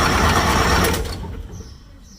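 A Massey Ferguson 550 tractor engine, being started for the first time since 2019, cranks over with a loud, dense mechanical churn for about a second before the sound fades and thins out.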